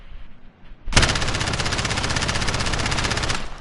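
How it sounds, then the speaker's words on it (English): Sustained automatic gunfire from the video game Call of Duty: Modern Warfare, a rapid, steady burst of about two and a half seconds, loud and continuous after a brief quiet start, with no voices. "if I was to shoot this gun with no recoil"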